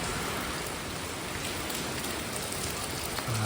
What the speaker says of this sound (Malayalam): മഴ പെയ്യാണ് ഗൈസ്